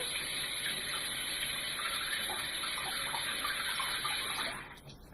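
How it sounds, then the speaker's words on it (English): Water runs steadily from a tap, a constant splashing rush that stops abruptly near the end. "Now we want to fill the soap with water."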